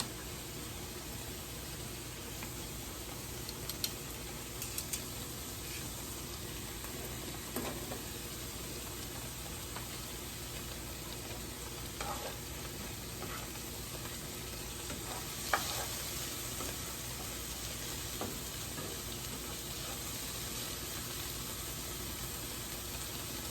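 Plantain slices fry in oil in a pan with a steady, faint, hissing sizzle that runs unbroken throughout, with a few soft scattered clicks.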